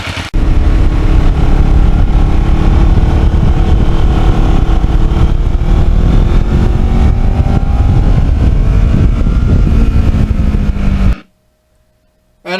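Kawasaki Ninja motorcycle riding along on a sunny day, a loud sustained engine drone with wind rush and slowly shifting pitch, ending abruptly.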